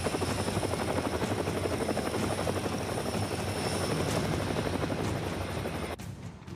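An Indian Air Force indigenous light combat helicopter roars loudly overhead, its rotor chop pulsing steadily before the sound cuts off abruptly near the end.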